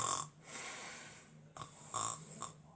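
A voice imitates a person snoring, giving a few breathy, rasping snorts with short pauses between them. The imitation is fairly quiet and close.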